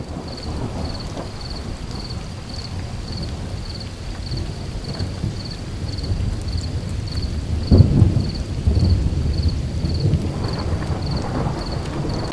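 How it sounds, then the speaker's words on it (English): A night thunderstorm with wind and heavy rain at a campsite beside an SUV-attached tent: steady rain hiss throughout, with a deep rolling thunder rumble swelling past the midpoint. "We had quite the light show last night, thunder and lightning and lots of wind and rain."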